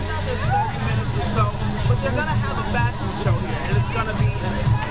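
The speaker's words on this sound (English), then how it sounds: "The crowd is grand, things are bustling." A crowd gathers outdoors on a street for a Hush Puppies fashion show, a steady blend of chatter and babble with a low hum underneath.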